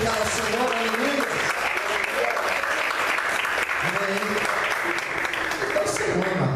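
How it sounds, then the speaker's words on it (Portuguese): A church congregation applauds steadily throughout, with the broadband clapping layered under talk and singing from the front. "Você pode aplaudir e glorificar o Senhor, aleluia."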